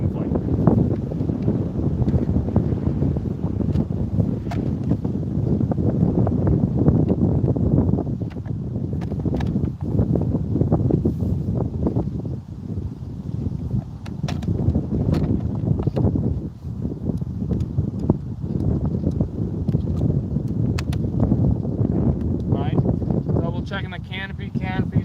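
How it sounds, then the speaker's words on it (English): Outdoor wind picking up around a paramotor pilot preparing an IL Goblin RAW 700 flight, heard as steady rushing and buffeting on the microphone beneath continuous talking. "the wind is actually starting to pick up"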